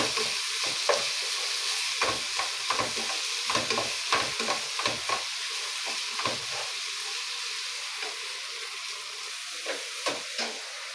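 Tomato frying in a pan while being stirred: a steady close sizzle throughout, broken by a quick run of sharp spoon scrapes and taps that thin out toward the end, with no talking.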